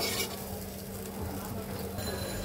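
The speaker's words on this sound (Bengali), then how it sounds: "মিক্স করে দিলাম আর এটাকে এখন কয়েক মিনিট খুব সুন্দর করে ভেজে নেব।" Spice paste frying with vegetables for a Bengali koi fish curry, a steady close sizzle with faint stirring scrapes running throughout, no voices.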